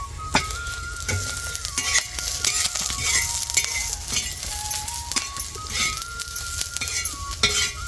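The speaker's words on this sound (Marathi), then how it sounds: "धने टाकलेत आता हे भाजून घ्यायचे आपल्याला" Coriander seeds dry-roasting in a pan while being stirred: dense rattling and scraping of seeds against metal with quick clinks, loud and close, continuous with no talk, alongside a steady background tone.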